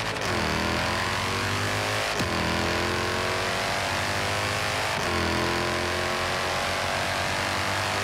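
A Mercedes-AMG GT S in the video game Forza Horizon 3 roars loudly, its engine climbing in pitch through repeated acceleration runs, with sharp gear shifts at intervals and a steady throbbing growl between them.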